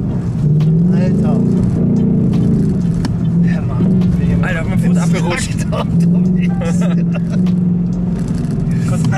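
Car drifting at a drift day, a loud engine drone that rises and falls with revs and tire noise, heard under near-constant excited talking.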